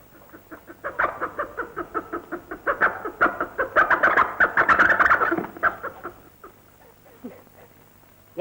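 Rapid, repeated clucking from chickens, building into a busy flurry of overlapping calls before trailing off to a few scattered clucks, in a scene from an old Tamil film.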